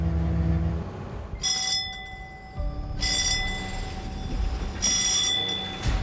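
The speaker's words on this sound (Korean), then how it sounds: "종이 울리면 잠깐의 휴식도 사라집니다." A bell clangs in three bright bursts over steady engine drone aboard a 29-ton anchovy fishing boat at sea, signalling the crew back to work.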